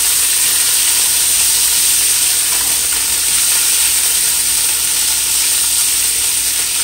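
Zucchini stir-fries in a hot pan, giving a steady, bright hiss of sizzling that carries evenly and close without pause.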